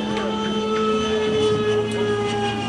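Electric ducted fan of an XB-70 model jet aircraft runs with a steady, continuous whine and several sustained tones over a broad rushing roar, holding nearly constant throughout.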